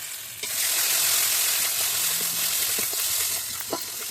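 Ground spice pastes of coriander, ginger-garlic, onion and chilli with salt and turmeric sizzle and fry in a pan, a steady close hiss with faint stirring scrapes.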